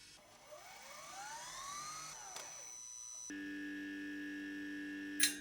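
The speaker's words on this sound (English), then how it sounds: "so what you hear is the actual sound of the compressor" The GTX-778 compressor runs during a noise test as a faint, steady whirring hum with a rising whine early on, then shifts to a constant tonal drone ending in a brief click.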